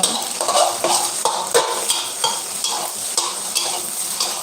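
Eggs sizzle in a hot pan while being fried for pad thai, with a spatula scraping and stirring in a steady rhythm of repeated strokes, close up and loud, with no voices.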